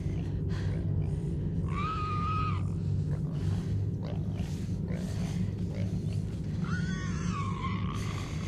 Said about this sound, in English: the boar's screams start to eerily resemble Joel's cries